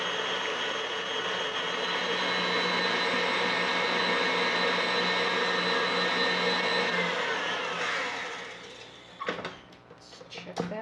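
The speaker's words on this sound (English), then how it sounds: "And now we'll continue whipping it until it becomes like whipped cream" An electric mixer whips gingerbread cake batter with a loud, steady motor whine for about eight seconds, then winds down and stops, followed by a few clattering knocks.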